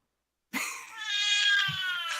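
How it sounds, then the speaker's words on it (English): A house cat lets out a single drawn-out meow lasting under two seconds, close and clear, with a short chirp at its start and nothing else heard around it. "Oh, my cat's awake"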